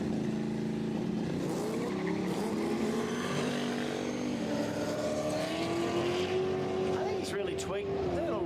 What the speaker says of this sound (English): There's a little turbo hidden somewhere in that Trans Am, maybe.